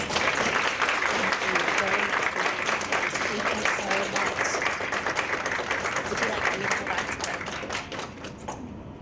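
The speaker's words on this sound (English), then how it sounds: "Round of applause, please." A room full of luncheon guests applauds at an early childhood educators awards event, steady dense clapping holding loud for about nine seconds before thinning slightly at the end.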